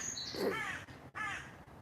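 Crows caw loudly outdoors, a couple of harsh drawn-out calls that fill the air close by, with short pauses between them.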